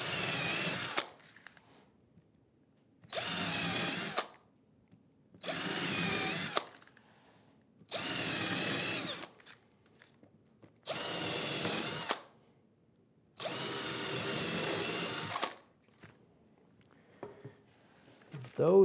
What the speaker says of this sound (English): So I'm going to drill them alternately by putting them together, drilling through